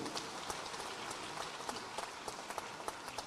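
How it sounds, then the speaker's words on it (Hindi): Applause from a large crowd at a political rally, a steady, somewhat distant wash of clapping with occasional sharper individual claps standing out, fairly faint throughout. "जोरदार तालियां बजाओ इस बात के लिए।"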